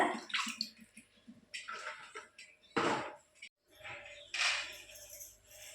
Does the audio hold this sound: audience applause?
no